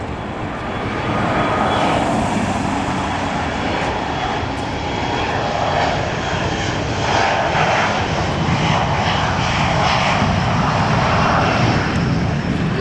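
A loud, steady airplane engine roar fills the air, a broad rumbling drone with wind noise, holding strong throughout as the aircraft powers down the north runway at LAX, Los Angeles.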